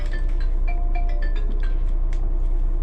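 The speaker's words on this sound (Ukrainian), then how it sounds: "І малий мені дзвонить, да?" A mobile phone rings inside a large blue bus, its repeating melodic tone sounding over a steady, loud engine and road rumble.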